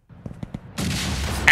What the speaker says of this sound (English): Ah, fucking grenade!